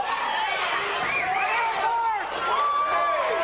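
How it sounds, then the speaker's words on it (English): Partisan Nevada crowd at an amateur boxing match, a loud, constant roar of cheering and shouting voices filling the arena, with a commentator talking over the din. "Certainly you can hear a partisan Nevada crowd here, all pulling for EFREN Mendoza."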